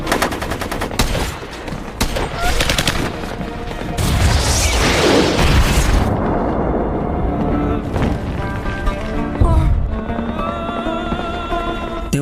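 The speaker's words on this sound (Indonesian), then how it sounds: "Sersan Raines tewas ditembak RPG oleh Khalid" An RPG explosion erupts amid heavy gunfire in the war film Jarhead 3 siege: loud rattling bursts of shots, then a booming, crashing blast, followed by more scattered fire and rumble.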